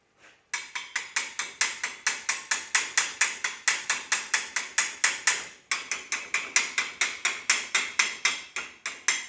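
A hammer chips slag off a fresh stick (SMAW) weld in rapid, sharp metallic taps, roughly three per second, close and crisp, with one short pause partway through the run.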